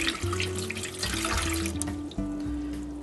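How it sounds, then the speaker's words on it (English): Hot tap water poured from a cup into a mixing bowl for homemade hamburger buns, a close, steady splashing gurgle with shifting pitch that lasts a few seconds. "that's 1 cup of hot water just from the tap. I'm going to pour it in there."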